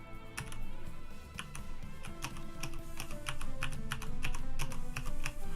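Steady, rapid typing on a membrane computer keyboard, with soft, dense keystrokes continuing throughout over a low background hum and music-like tones.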